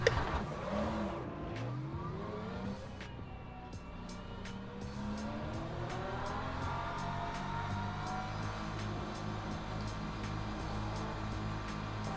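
Porsche race cars and hypercars lapping Le Mans in the sim racer Le Mans Ultimate: steady engine drone with rising and falling revs as cars accelerate and pass, a brief tire squeal, and no talk.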